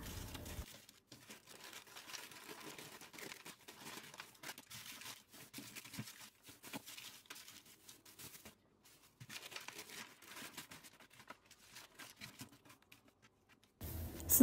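Plastic bags crinkle and rustle in irregular bursts as frozen potato and minced meat mixture is portioned into them by hand in a home kitchen, with short pauses between handfuls and no talking.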